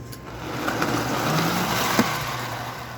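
An F unit model train locomotive, numbered 360 and 361, runs its motor along the rails with a steady low hum. The hum sits over a constant background wash, and a single small click comes near the end.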